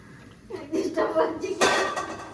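A frying pan clanks down onto a home kitchen stove with a short metallic clatter, amid softer dish rattles and people talking nearby.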